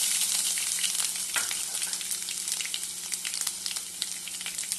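Continuous crackling sizzle of finely chopped ginger frying in hot oil, bright and steady with small pops throughout, close up and no voices.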